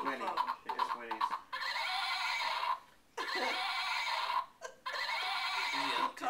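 A toy horse gives a repeated electronic neigh, a few bright whinnying bursts one after another, close and fairly loud, with people talking around it.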